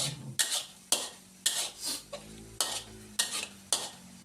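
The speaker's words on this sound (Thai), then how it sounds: "ผัดให้เข้ากันครับ" Minced pork and oyster sauce stir-fried in a hot pan, a spatula scraping and clanking against the metal in a steady rhythm of sharp strokes over a quiet sizzle, close by.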